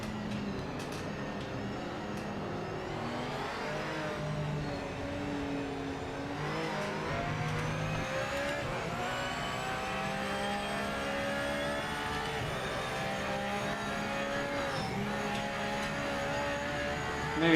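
Porsche GTE race car engine in the Project Motor Racing video game, roaring steadily with rising and falling revs through gear changes, loud and continuous with no voices over it.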